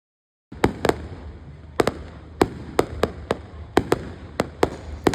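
Fireworks burst at an outdoor show in outback Lightning Ridge, New South Wales: a series of sharp, loud bangs and pops in quick irregular clusters, each one echoing briefly, with no talking.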